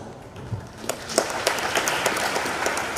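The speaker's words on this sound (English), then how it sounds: "This applause is for you." An audience applauds for an online guest at a college engineering alumni event, the scattered claps building quickly into steadier clapping across the room.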